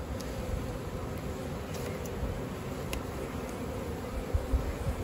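Bees buzzing around hives at a small beekeeping operation, a steady low hum that sits close and continuous throughout, with no talk.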